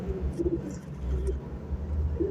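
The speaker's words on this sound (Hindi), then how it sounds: "ये एक ही घर के सारे कबूतर हैं" Pigeons from a single household loft cooing in low, repeated rolling murmurs, steady and fairly close, with faint higher bird calls mixed in.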